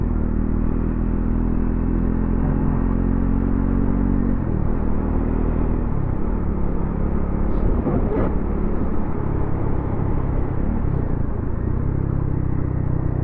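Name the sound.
Triumph Scrambler motorcycle exhaust note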